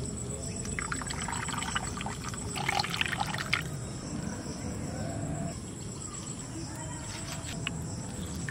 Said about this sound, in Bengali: এইবারে দুধটা মিষ্টির মধ্যে ঢেলে দেবো।